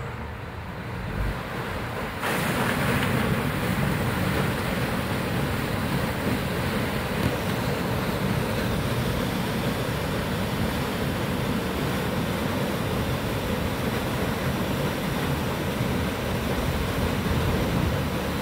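A lift station pump runs steadily at a drainage pump station, a loud continuous low rumble and rush that kicks up in level after about two seconds and holds unchanged to the end, with no voices.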